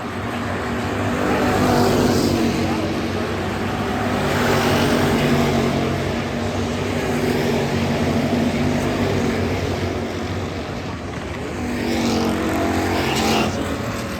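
Hobby stock race cars roaring around the Adams County Speedway oval, engine drone swelling and fading as the pack passes, continuous and fairly loud.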